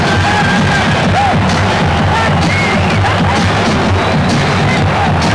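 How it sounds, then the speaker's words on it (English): A loud, steady roar of a basketball arena crowd in Chicago during a 1990 Knicks at Bulls game timeout: dense babble, shouting and scattered cheers with no pauses. "Now the crowd is back in the game"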